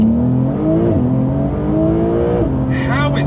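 A Porsche 992 Carrera S launches hard in Sport Plus on a damp road, its engine note climbing loudly through two upshifts before revving up again, with a voice talking faintly underneath.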